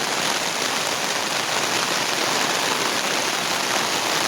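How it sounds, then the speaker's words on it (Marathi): Heavy rain pours down deep in a forest, a dense, loud, unbroken hiss of drops striking leaves and ground. It stays steady for the whole stretch, with no voices. "पाऊस खूप आलाय, पावसामुळे आम्ही थांबलेला आहे"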